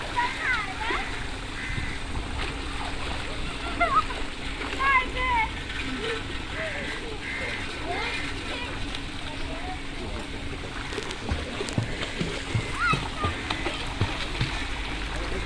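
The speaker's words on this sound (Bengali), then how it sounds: "হাত দিয়ে পা দিয়ে সাঁতার" People swim in river water at a natural park, their hands and feet making continuous splashing and churning. Voices chatter and call out over the water throughout.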